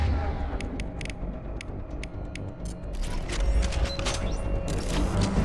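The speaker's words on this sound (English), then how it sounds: "Here come the mechs." Mechs approaching in Mass Effect 2: loud continuous mechanical clanking and ratcheting gear noise with metallic creaks, dense and steady, with sharp impacts growing busier toward the end.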